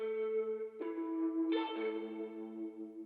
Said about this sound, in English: So I added a guitar, but I just did it at the ends just to give it a bounce off the vocals